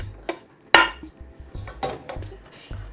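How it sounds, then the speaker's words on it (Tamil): Roasted urad dal is tipped into a vessel of roasted rice, with a series of close, irregular clinks and clatters of metal utensils and grains over a few seconds and no talking. "வறுத்த உளுந்தை இந்த அரிசியோட சேர்க்கிறேன்"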